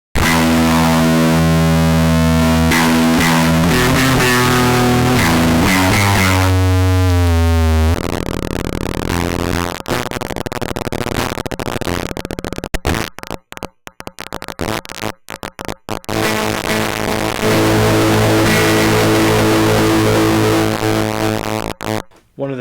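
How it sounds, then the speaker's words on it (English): A broken digital compressor in a modulo distortion mode produces harsh, shifting digital distortion on a tonal signal, with buzzing stepped pitches, abrupt dropouts and glitchy stuttering bursts, loud and continuous for over twenty seconds. "another strange form of distortion."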